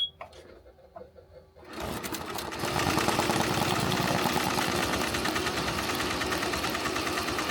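An embroidery machine stitches a 3D puff and flat design around a fitted hat, starting after a few quiet clicks and then settling into a loud, rapid, steady mechanical chatter of needle strokes.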